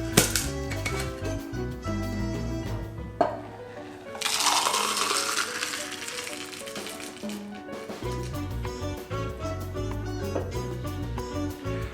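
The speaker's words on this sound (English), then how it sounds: "Just gonna open pour into our double rocks glass." Mai Tai poured from a cocktail shaker into a double rocks glass, a few clinks and a metallic knock, then a burst of liquid and ice splashing into the glass for several seconds, close and clear, amid background music.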